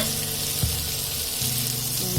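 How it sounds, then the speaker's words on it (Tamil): Onion, tomato and ginger-garlic paste sauté in a pan on a glass-top stove with a steady, close, hissing sizzle, while a low tonal hum drones beneath it. "வெங்காயம், தக்காளி, இஞ்சி பூண்டு பேஸ்ட் நல்லா வதங்கிடுச்சு."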